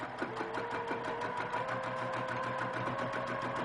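A sewing machine running steadily as it stitches along a quilt seam line, with a fast, even mechanical chatter, close and continuous throughout.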